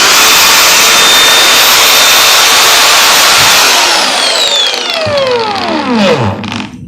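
A Makita DGA404 cordless angle grinder on an 18V battery runs at a loud, steady high-pitched whine, then spins down near the end with a falling tone as it coasts to a stop.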